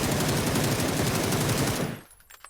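Rapid automatic gunfire from PUBG on console, a dense continuous burst of loud shots for about two seconds that then cuts off, leaving faint trailing echo.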